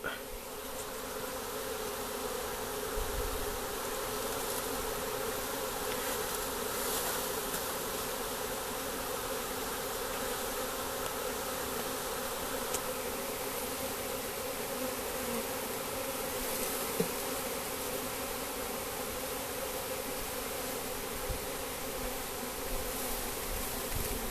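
Dense, steady droning hum of a honeybee swarm buzzing all around as it is caught into a hive box, unbroken and fairly loud throughout.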